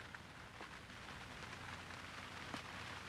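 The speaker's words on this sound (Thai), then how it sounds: "โอ้ฝนตก" Rain falls across a mixed vegetable farm in rural Isan, Thailand, a continuous soft patter with scattered louder drops hitting nearby surfaces, steady throughout and with no voices.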